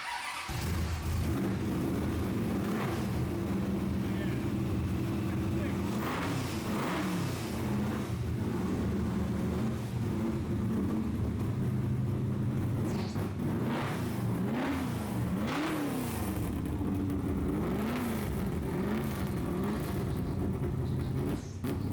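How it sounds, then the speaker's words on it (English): A loud Dodge Dart muscle car engine, first started after 10 years with a new exhaust, rumbles steadily, revving up and down repeatedly with a deep, throaty exhaust, close and continuous with no talking. "this is the best part about finishing up any exhaust, firing up the car and seeing how it sounds."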